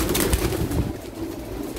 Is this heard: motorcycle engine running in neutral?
no